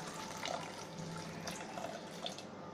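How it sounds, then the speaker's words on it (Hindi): Water from a tap runs into a pressure cooker holding corn and peanuts, a soft steady trickling and splashing stream, quiet and close, with no voices. "थोड़ा सा पानी डालेंगे इसमें।"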